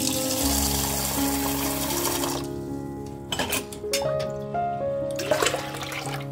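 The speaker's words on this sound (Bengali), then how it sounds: "ডাল ধোয়া পানিটা তো রেখে দিয়েছি, সেখানে এখন চায়ের লিকারটাও দিয়ে দিলাম, একসাথে গাছে দেওয়া যাবে।" Tea liquor poured into a container of saved lentil-washing water, a splashing, trickling pour with a running-water hiss that drops away midway, then resumes in short gurgling bursts.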